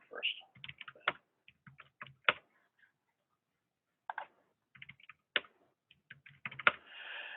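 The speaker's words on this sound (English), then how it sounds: "I'm going to log in with my default credentials if I can type right." Login credentials typed on a computer keyboard at a server console, bursts of close, crisp key clicks separated by pauses, with a short quiet gap in the middle.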